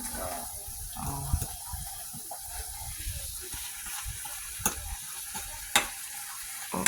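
Steak frying in butter in a pan, a soft continuous sizzle and crackle with occasional sharp pops and utensil clicks, fairly quiet throughout.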